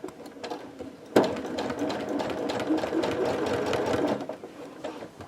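A sewing machine runs steadily as it stitches binding onto a quilt, starting with a sudden jolt and then a continuous close, even whir of rapid needle strokes before slowing at the end.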